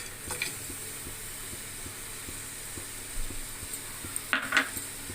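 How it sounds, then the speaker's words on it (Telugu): Melting jaggery with roasted sesame seeds sizzles softly in a pan as a spoon stirs it in regular strokes, with a few louder scrapes against the metal, close and quiet. "బెల్లం పల్చగా అయ్యే వరకు ఇలా తిప్పుకుంటాం."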